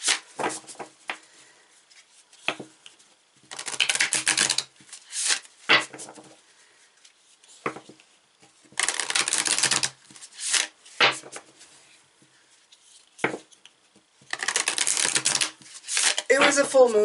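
Moonology oracle cards being shuffled in several separate bursts of crisp riffling and flicking, close and fairly loud, with quiet pauses between them and soft handling taps and rustles scattered throughout.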